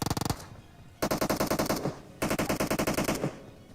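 Rapid bursts of automatic gunfire from a fight in the mobile game BGMI (PUBG Mobile): three loud volleys, each a fast string of shots separated by short pauses.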